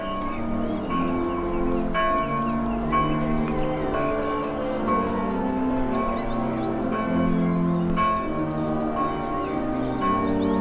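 Bells ring out in the Farming Simulator 19 farm game, layered over steady game music and ambient birdsong at a constant moderate level with no talking.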